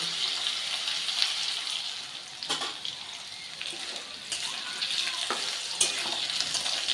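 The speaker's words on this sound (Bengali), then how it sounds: "আমি আলুগুলো একটু ভেজে নেব" Potatoes fry in oil in a pan with a moderate, continuous hiss, broken by a few brief stirring knocks and scrapes, no voices.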